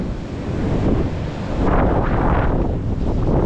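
Strong surf from a typhoon crashes and rushes continuously around a boat, buffeted by heavy wind noise that swells louder midway, with no talking.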